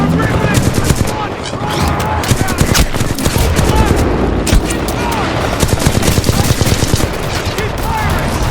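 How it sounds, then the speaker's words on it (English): Dense, continuous gunfire from the Titanfall 2 shooter game, rapid overlapping automatic bursts and shots running loud and unbroken throughout, with voices shouting over the battle. "Keep firing!"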